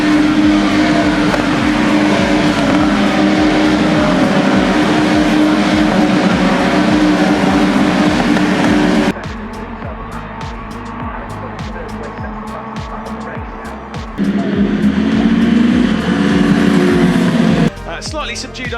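GB3 single-seater race cars scream past on a track in the final sector of a race, loud high-pitched engines roaring continuously with abrupt shifts in pitch and level as cars pass, with commentary talking over it.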